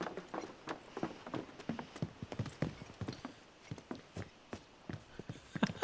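Horse hooves clip-clop at a walking pace in the video game Final Fantasy VII Remake, a faint, irregular series of soft thuds with no talking.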